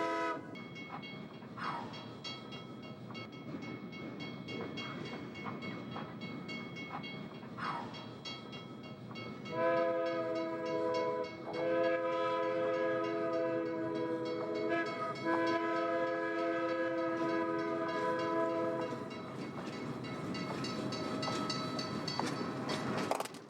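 Alco locomotive number 25 works on a Bay Area railroad, its engine rumbling quietly before a loud, sustained multi-tone horn blast sounds for about ten seconds, then the engine noise carries on.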